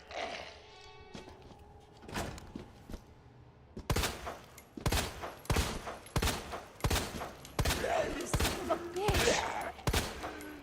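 Rapid gunfire rings out while zombies are shot in the Resident Evil 2 Remake video game, with loud sharp shots arriving in a fast irregular string over a low background.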